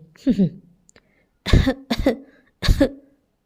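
A performer in an audiobook drama coughs several times, harsh bursts coming in a loose series, close and clear, with a short voiced sound at the start.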